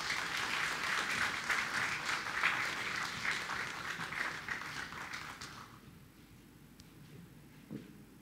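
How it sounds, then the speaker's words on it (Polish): An award ceremony audience gives sustained applause, many hands clapping densely and fairly loud, then tapering off after about five seconds into quiet room noise with a few scattered sounds. "proszę o wielkie brawa"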